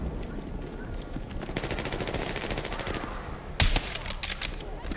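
Video game gunfire from a street fight in rapid automatic bursts, sharp repeated shots running in clusters with a louder close burst near the end, over a busy game background.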